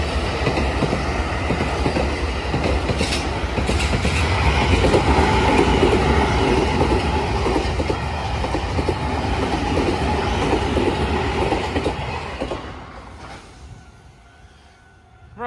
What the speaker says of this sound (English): I'm going to stop talking now, because a train's coming.